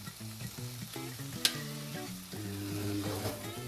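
An egg frying in a pan with a splash of soy sauce gives a steady sizzle, with one sharp crackling pop partway through, set under continuous background music.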